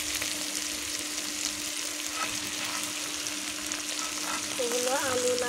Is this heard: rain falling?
no